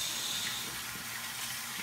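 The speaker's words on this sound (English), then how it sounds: "wash my hands" Steady gush of tap water running into a sink for hand washing, a continuous close hiss with no talk over it.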